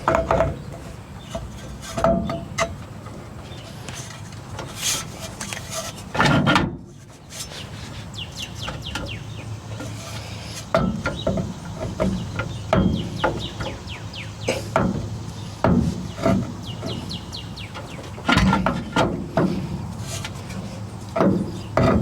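A 1964 Ford F100 driveshaft is worked onto its tight-fitting spline, making close metallic rubbing and scraping with scattered sharp clicks and knocks, while birds chirp faintly in the background.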